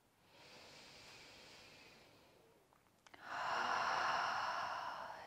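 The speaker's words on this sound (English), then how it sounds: "Through the nose, inhale. Through the mouth, exhale." A person breathes during a yin yoga session, drawing one soft, airy breath and then releasing a louder, fuller rush of air through the mouth, close and unaccompanied.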